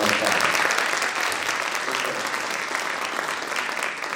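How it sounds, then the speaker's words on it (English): A crowd applauds a student jazz combo at a school jazz band concert, a dense, steady wash of many hands clapping at full strength from start to finish. "So I think we should give them a round of applause."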